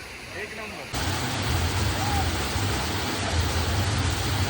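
Small waterfall at Mahabaleshwar near the Krishnamai temple, a steady dense roar of falling water that starts abruptly after a second of quieter ambience and continues loud and close.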